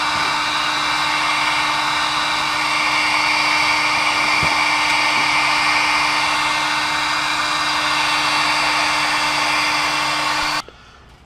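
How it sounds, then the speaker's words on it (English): A heat gun blows a steady, loud, close whirring hiss with a constant hum underneath while heating AR-15 metal for a Microlon coating, then cuts off abruptly near the end. "You want to keep your heat gun moving."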